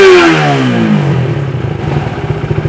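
A Suzuki Satria FU motorcycle with a DSK CDI, after two years of use, revs hard toward its limiter near 13,500 rpm. The loud engine note sweeps up and falls back, then breaks into rapid stuttering pulses at the cutoff.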